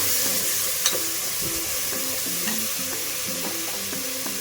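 Mutton legs being mixed with salt and turmeric in a pot, giving a continuous low sizzle with repeated scraping and stirring strokes close by, no voices over it.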